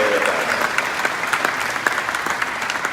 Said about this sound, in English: How about a big round of applause for everyone who's here in the room today with us